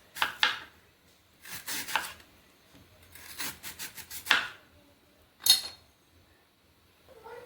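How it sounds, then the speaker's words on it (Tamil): A knife slicing banana stem into rounds: several bursts of crisp cutting strokes, some in quick runs, with short pauses between, close and without talk. "வாழைத்தண்டு ரவுண்டாக கட் பண்ணியாச்சுங்க."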